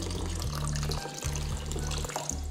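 Water from a tap pours steadily into a bowl of soaking lentils, a continuous close splashing fill with brief pauses as the flow shifts.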